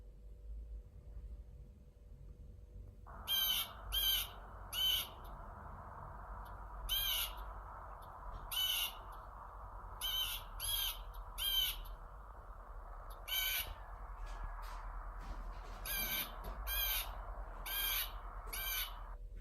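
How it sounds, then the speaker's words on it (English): Blue jay, a North American corvid, giving a series of harsh, repeated calls in short bursts over a steady hiss of background ambience, fairly close and clear with no one talking. "The blue jay, Cyanocyta crostata, is a passerine bird in the family Corvidae, native to North America."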